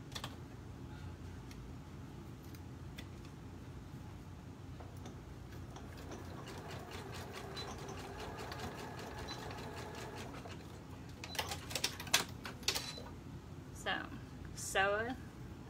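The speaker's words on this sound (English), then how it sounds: "So I'm just going to sew the ends together to create a loop here." A sewing machine stitches fabric ends together into a loop with a soft, fast mechanical ticking rhythm, close and fairly quiet, followed by a few louder handling clicks and rustles near the end.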